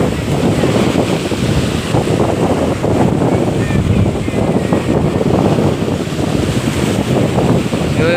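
Sea waves surge and wash in a constant loud roar, mixed with heavy wind buffeting the microphone, with no clear breaks throughout.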